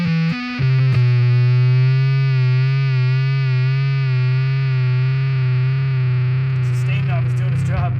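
An electric guitar through an EHX Big Muff Pi fuzz pedal sounds a thick, heavily distorted note after a couple of quick plucks, then sustains it loud and steady for several seconds with slight wavering, close and without talk.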